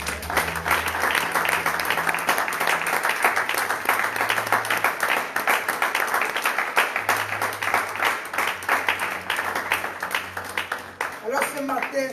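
A church congregation at morning prayer claps steadily in sustained applause to acclaim the Lord, dense and fairly loud, with low background music running beneath.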